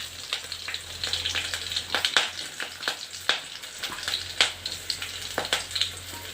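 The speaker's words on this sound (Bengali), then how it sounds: "তেল একটু গরম হলে তারপরে দিব পেঁয়াজ কুচি। এখানে আমরা সরিষার তেল ব্যবহার করি।" Chopped onion frying in hot mustard oil, a steady crackling sizzle dense with tiny pops, close and fairly quiet, with no voices.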